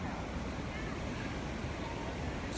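River water flowing near Iguaçu Falls, a dense continuous rushing roar with no pauses, steady and fairly loud throughout.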